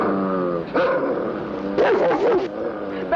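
A dog barks and yips in short loud bursts at close range, with a whimpering tone between the barks, in a film scene.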